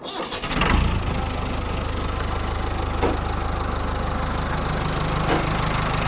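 A 1996 Massey Ferguson 398 tractor, 90 hp and made in England, starts up and then runs in first low gear with a steady, knocking diesel rumble close by, with a couple of brief clanks over it.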